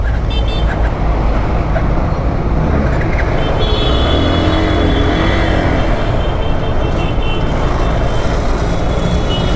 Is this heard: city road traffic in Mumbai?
yes